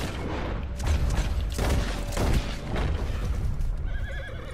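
A horse whinnies in the video game Red Dead Redemption 2, a loud neigh over a busy, rumbling game soundscape with thuds and booming effects.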